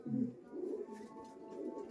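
Soft, low cooing from Giribaj pigeons rolls on in a steady murmur, a brief louder coo at the start, fairly faint and close with no clear talk over it.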